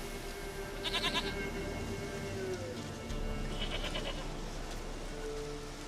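A goat in The Witcher 3 bleats twice, wavering cries a few seconds apart, set against steady ambient game sound like light rain.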